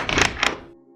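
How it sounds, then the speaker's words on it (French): An old-style creaking door sound from the Minecraft video game: a single short, fairly loud thunk-like clatter, heard alone with no voices. "mais fait un bruit de vieille porte"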